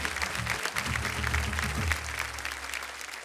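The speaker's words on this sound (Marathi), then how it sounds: "जोरदार टाळ्या झाल्या पाहिजेत त्यांच्यासाठी." An audience at a kirtan competition claps in steady, dense applause that carries evenly throughout, with a faint low hum underneath.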